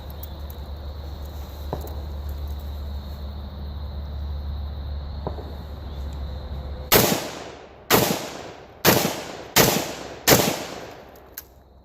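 Five sharp, loud rifle shots fired through a BD3-AKD muzzle brake ring out about a second apart after a stretch of quiet outdoor hum, each with a short decaying echo.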